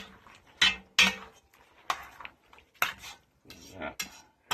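Chicken sausage pasta alfredo with noodles being stirred in a pan, utensil scraping and clinking against the metal in several distinct strokes, close and fairly loud, with no talking.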